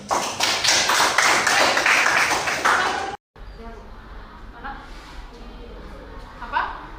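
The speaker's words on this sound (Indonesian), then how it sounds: "Tepuk tangan" A classroom of students clapping together in a loud, dense burst for about three seconds, followed by quieter room noise with light taps and murmuring.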